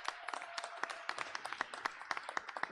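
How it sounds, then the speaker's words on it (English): Audience applause for nonprofit vendors at a public event, a faint, thin patter of scattered claps with sharp irregular peaks, sounding distant and sparse rather than a full ovation. "Let's give them a big round of applause."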